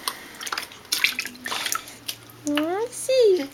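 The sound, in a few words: child's bath in a bucket, water splashing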